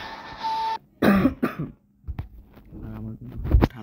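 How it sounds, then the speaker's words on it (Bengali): A person with a cold coughs in a few harsh, separate bursts close to the microphone, with short quiet gaps and throaty sounds between them. "আমার কিন্তু ঠান্ডা লেগেছে, বুঝতে পারছেন, কাশি আসছে।"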